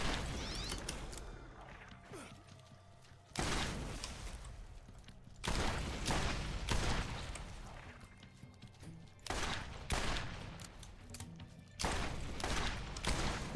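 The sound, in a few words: gunfire from infinite ammo gun in video game Borderlands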